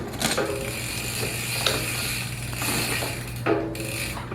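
A wrench ratchets in short bursts of clicking on the front sprocket of a mountain bike during reassembly, with a steady low hum underneath and no talking.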